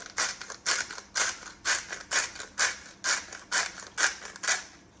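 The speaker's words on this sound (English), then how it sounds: "And some freshly milled black pepper." A pepper mill grinds black pepper in about eleven quick, even crunching bursts, close and fairly quiet, with no talk over it.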